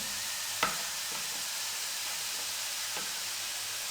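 A paratha fries in ghee on a pan with a soft, steady sizzle and hiss, broken by a couple of faint taps and clinks, with no voices.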